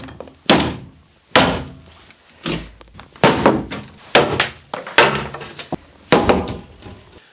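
Heavy hammer blows pound nails out of a 2x4 window frame in an off-grid cabin, about nine loud, sharp thunks at irregular intervals, each ringing briefly before the next strike.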